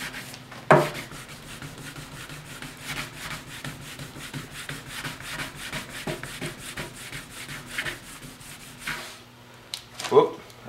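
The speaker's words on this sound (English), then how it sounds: "I'm gonna wet sand it for the second time" A painted surface being wet sanded by hand with paint to a mirror-like finish: steady rhythmic rubbing strokes, close and moderately loud, with a few louder knocks near the start and end.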